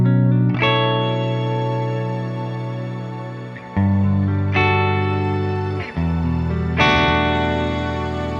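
Clean electric guitar chords struck three times through the Archetype: Gojira X plugin's reverb with shimmer mode engaged, each ringing into a long, bright, airy tail that lingers between strums.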